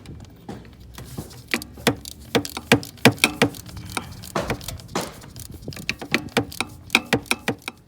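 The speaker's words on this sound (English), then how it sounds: "My long ratchet probably helps, but that cracked right loose" A long ratchet loosens and spins out a plug on a 7.3 Powerstroke diesel engine, giving close, sharp clicking in quick irregular bursts with brief pauses between strokes, and no talking.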